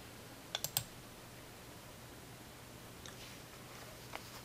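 A computer mouse clicking Save in point-of-sale software, a quick cluster of three sharp clicks near the start, then a couple of fainter clicks later, close and quiet, no talk.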